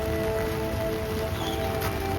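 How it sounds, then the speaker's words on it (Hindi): Heavy rain pours down on a street near a bus stand in Guwahati, a dense, even hiss with a faint steady tone running through it. "बारिश बहुत आ रही भाई"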